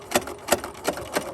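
A sewing machine back-stitches and sews forward on a winter headband, a quick run of about four soft rhythmic needle thumps over a faint motor whir, close and quiet.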